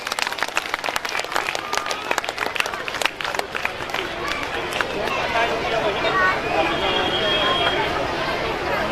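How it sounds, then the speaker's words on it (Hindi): An audience at a school annual function breaks into dense, lively applause that fades into crowd murmur and chatter, with a person speaking over it. "तालियां बजनी चाहिए।"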